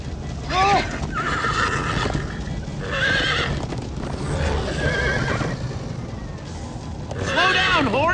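A horse in Minecraft Story Mode neighs loudly several times while its hooves drum in a fast gallop, close by and continuous across the whole stretch.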